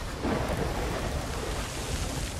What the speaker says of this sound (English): Why are we always heading into the storm?